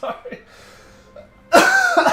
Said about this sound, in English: I was like starting to cough